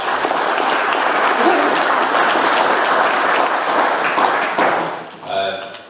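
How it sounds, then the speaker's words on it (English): Loud, dense audience applause fills the room for the hosts, the Farmers Museum, at an agriculture department gathering, continuous for about five seconds before tapering off as a voice begins. "let's give a round of applause to our hosts here today"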